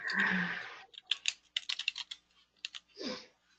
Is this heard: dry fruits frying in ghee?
no